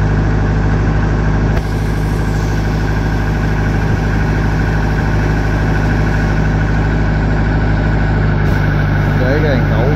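A homemade crane truck's engine runs at a steady, loud idle-like drone while it lifts large logs down onto a boat, its hum continuous for the whole stretch.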